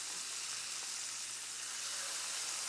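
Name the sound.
beef filets searing in butter in a hot pan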